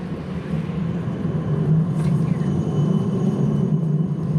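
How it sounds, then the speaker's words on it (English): A Melbourne city tram approaches a CBD stop with a steady low rumble that builds and holds, heard from close by as traffic-like background noise fills the street. "CBD area waiting for tram."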